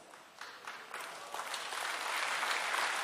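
Audience applause at a Washington gathering, starting sparse and building into steady, dense clapping that fills the room for a few seconds, with no talk over it.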